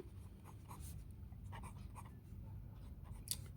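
A pen or marker scratches out short strokes on a board or paper during a maths lesson on quadrilaterals, soft irregular scribbling bursts in a quiet room with no talking.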